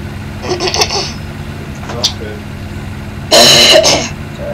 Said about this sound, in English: I've got a bit of a cough.